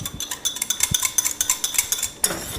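A whisk beats sour cream into a thickened sauce taken off the heat, producing quick, regular metallic clinks against the pan, close and alone, ending in a brief scrape.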